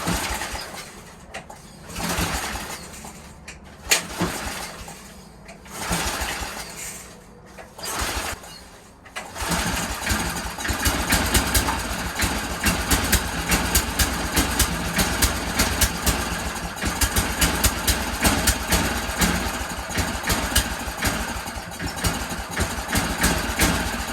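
Cheap Cub Cadet snowblower with an updraft carburettor at full choke and full throttle, first sputtering in uneven bursts with birds cooing nearby, then catching into a loud, steady, close engine drone.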